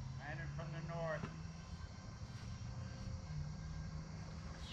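An E-Flite A-10 model jet, a low-budget radio-controlled aircraft, gives a steady engine drone at moderate distance, heard under brief talk at the start and then alone.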